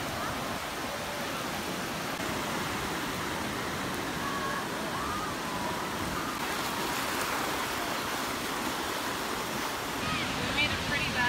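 Ocean waves on a beach produce a constant broad wash of surf close by, steady and unbroken throughout, with some wind noise and no clear talking.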